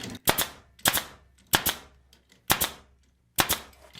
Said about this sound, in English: Pull that down, lock it down, staple in the width of the tool.